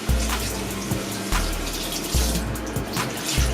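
Tap water runs steadily at close range while someone wets their head before a first-time head shave, a continuous splashing stream with a low hum underneath and a few brief interruptions.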